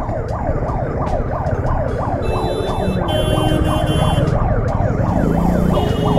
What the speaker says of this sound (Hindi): पीछे से एम्बुलेंस आ रही है यार।